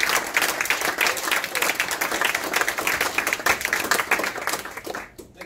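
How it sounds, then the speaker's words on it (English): Steady applause from the audience at a federal election candidates forum, many hands clapping together at a brisk, even density before tapering off near the end. "I think we should once again give a round of applause for all of our candidates."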